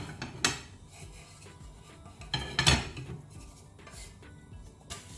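A spatula works under the edges of a soft oats dosa on a pan, giving a few short scraping rasps against the metal, near and clear, with quiet pauses between.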